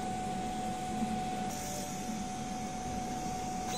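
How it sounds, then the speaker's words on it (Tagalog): A DTF printer runs a head clean cycle, giving a steady mechanical hum with a constant tone and a pump-like hiss that brightens partway through. The sound holds even and continuous throughout, with no talking. "Pagkatapos punasan ng rubber wiper, pagkatapos mag-head clean,"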